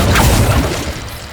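Accio spell effect from Hogwarts Legacy, a loud, dense whooshing rumble with a bright magical shimmer, sustained throughout and tapering slightly at the end, no voice over it.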